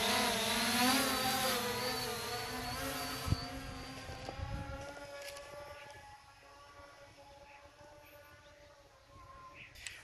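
A B2C drone flies away during a range test, its buzzing, high-pitched motor whine loud at first and then steadily fading with distance until it is faint, with a few soft knocks along the way.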